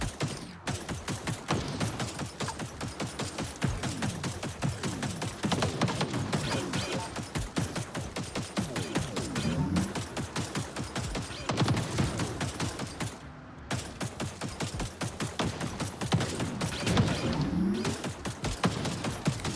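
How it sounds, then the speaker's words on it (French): Big cannons mounted on a vehicle fire in the game TerraTech Legion, a dense, continuous rapid barrage of loud shots that runs without pause. "J'ai tout mis dans les gros canons"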